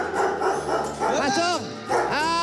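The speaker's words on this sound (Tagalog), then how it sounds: "naririnig ko na yung mga aso" Several dogs bark and yip excitedly in a rapid run of loud, close calls, mixed with overlapping voices during a TV show guest appearance.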